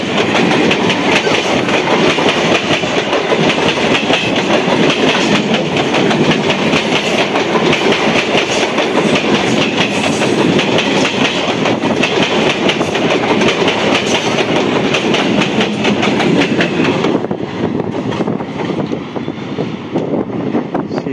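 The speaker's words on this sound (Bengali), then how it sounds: "শিয়ালদা বনগাঁ লোকাল গেল" A Sealdah–Bongaon local train roars through a station, loud and sustained with rhythmic wheel clatter and rumbling carriages for about seventeen seconds before the noise begins to fade.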